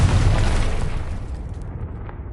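An explosive Confringo spell goes off in the Hogwarts Legacy video game: a loud, deep boom that bursts at once and then rumbles down and fades over about two seconds, heard on its own.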